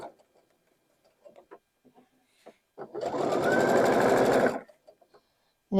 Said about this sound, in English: here is where I will do a little bit of a back stitch to help secure that